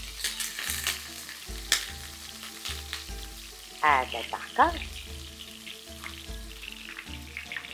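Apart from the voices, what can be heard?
onion frying in a pan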